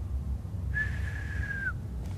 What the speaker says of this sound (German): Oh, ich kann nicht pfeifen.